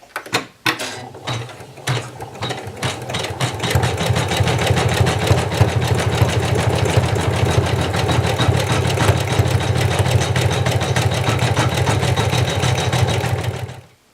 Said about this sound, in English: Our last step is going to be to run the stitch that's going to sandwich our Feltie together.